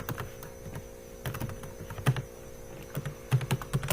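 Irregular keystrokes on a computer keyboard while Scala code is typed for a quiz app. The clicks come in short bursts and single taps, close and fairly quiet, over a faint steady electrical hum.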